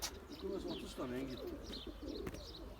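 Pigeons coo softly in a coop, a few low warbling calls close by over a faint background hum, with quiet chirps from other birds mixed in.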